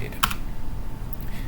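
A couple of sharp key clicks on a computer keyboard, one crisp strike followed by a fainter tap a second later, close and alone over a low room hum, while a command is typed on a new Alpine Linux system.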